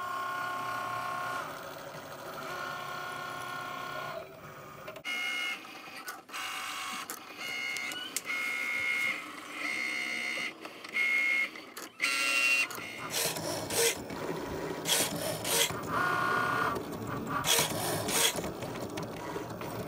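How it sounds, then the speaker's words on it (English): A Cricut Explore Air cutting machine cutting shoe materials on a mat, with steady mechanical whirring and motor whines broken by abrupt shifts, clicks and rasping cutter passes, close and continuous for about twenty seconds. "just press load the mat and press go, and you can cut out the materials for your shoes"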